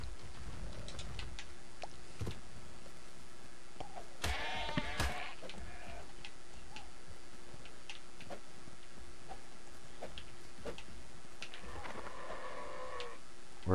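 Sheep bleat in a bursty cluster around the middle of ARK: Survival Ascended gameplay, with a few softer bleats later, over quiet game ambience and faint ticking.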